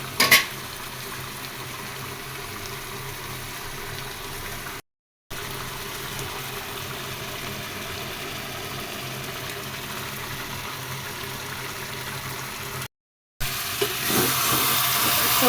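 Fish bhuna frying in a pan with raw onion, a steady close sizzle with faint stirring that runs unbroken, with two very short gaps and a brighter hiss near the end.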